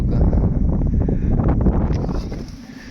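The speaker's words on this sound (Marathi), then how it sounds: "वाऱ्याचा आवाज." Strong wind gusting on a misty hilltop at Raireshwar Fort, a loud buffeting roar over the microphone that eases slightly toward the end.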